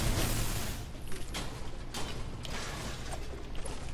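Building walls over doors in Fortnite, rapid creaking and clattering construction sounds with a few sharper knocks, close and continuous, no talk.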